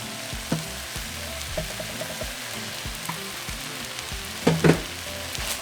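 Seasoned shredded beef machaca mixture sizzles steadily in a hot pan, with soft stirring scrapes and a couple of louder clatters near the end, with no talk.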